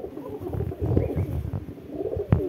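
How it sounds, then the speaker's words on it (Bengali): A young female Giribaz pigeon coos close by in a series of low, throaty, rolling calls with short pauses between them. "এই যে পায়রার পাঞ্জা, মাদি পায়রা, এটা একটা মাদি বাচ্চা।"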